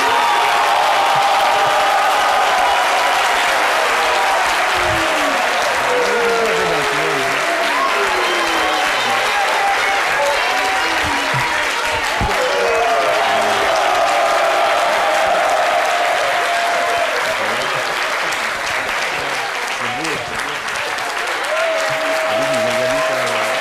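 A studio audience on a French television talk show applauds continuously and loudly for over twenty seconds, a dense sustained clapping with scattered voices and faint cheering mixed in.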